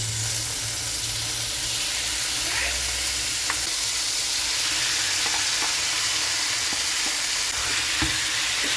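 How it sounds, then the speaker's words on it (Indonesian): Beef frying with shallots in a pan for sate goreng maranggi sizzles steadily and loudly, with a spatula scraping and clicking against the pan as it is stirred. "Aduk-aduk ya sampai semuanya rata dengan bawangnya yang tadi."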